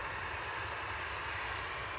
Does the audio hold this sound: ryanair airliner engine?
yes